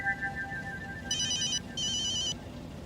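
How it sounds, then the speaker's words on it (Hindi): A phone ringtone sounds indoors in two loud electronic bursts after a brief steady tone, with no talking over it. "बाका फोन आ गया"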